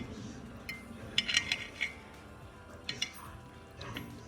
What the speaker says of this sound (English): Let's cut the steak open.